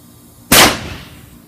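A compressed-air potato cannon fires once, a single loud sharp blast that rings out and decays over about a second after a brief quiet lead-in.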